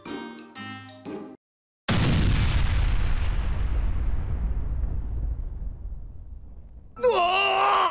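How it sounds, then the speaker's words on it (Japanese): An explosion in the BlazBlue Centralfiction fighting game bursts in loudly and suddenly, then rumbles away in a long fading roar. Voiced sounds come just before it and again at the end. "兄さんが爆発した。"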